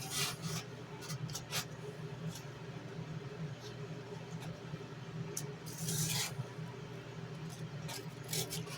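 Hand sanding with 100 grit sandpaper makes a steady, close rasping rub that runs continuously, with a few sharper scrapes and some faint background noise.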